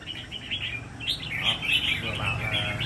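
A songbird offered for sale chirps and twitters steadily throughout, with repeated bright calls close by over a low background rumble.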